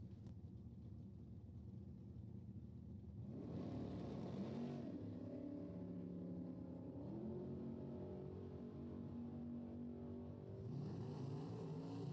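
Drag race cars, a big-block Mopar-powered 1971 Cuda and a 1969 Camaro, roar at a drag strip, a steady distant engine rumble that swells in stages as they run, with no talk over it.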